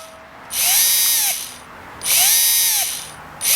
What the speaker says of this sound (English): I'm gonna do a full pull of the throttle